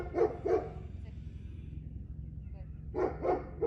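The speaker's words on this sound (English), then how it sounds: "Who cares if the dog's barking at you?" A dog barks in two quick pairs, moderately distant, separated by a pause, over a low steady background hum.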